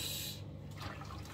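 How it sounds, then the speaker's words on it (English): Sorrel (zobo) drink poured from a sieve into fruit juice, a short close splash and trickle of liquid at low level with no talking. "pour it in the juice."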